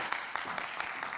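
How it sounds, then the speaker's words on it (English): Conference audience applauding, a soft, steady patter of many hands at a distance, fairly faint and continuous throughout. "Give a big applause to Lis Lothras and Beatrice."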